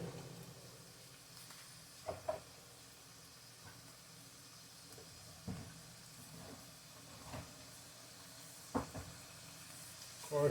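Meat fries in a pan for enchiladas with a steady low sizzle, broken by occasional soft knocks and utensil clatters nearby.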